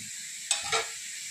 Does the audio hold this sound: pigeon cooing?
no